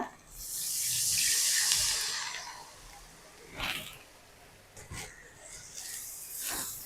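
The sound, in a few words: tamarind water poured into a pan of sautéed onions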